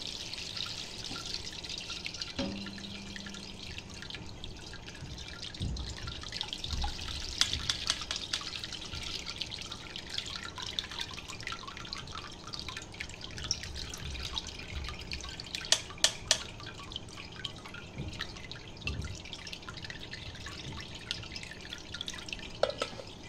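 Wheat starch water for kurdai drips and trickles through a thin cotton cloth into a vessel, a quiet, steady patter of drops with occasional louder splashes, with no talking.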